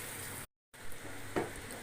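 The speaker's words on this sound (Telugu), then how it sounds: "సేమియా రైస్ని తిప్పుకుందాం" Semiya vermicelli sizzles softly in a hot pan while being stirred, with one short scraping stroke partway through. A brief gap cuts the sound to silence.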